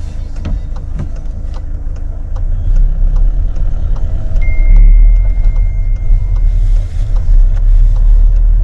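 An old car's engine drones low and steady from inside the cabin as it drives, with the rumble swelling slightly midway and a faint tonal whine briefly above it.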